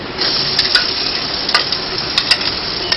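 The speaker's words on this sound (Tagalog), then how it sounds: "Susunod na natin ang paggisa ng bawang." Garlic sautés in hot cooking oil, a steady dense sizzle with a few sharper crackles and pops scattered across it, close and fairly loud with no voices.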